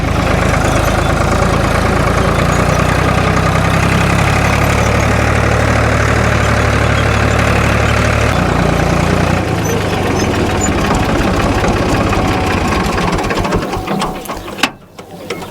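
A tractor engine idles close by with a steady low rumble and rattle, easing off near the end before a brief clatter.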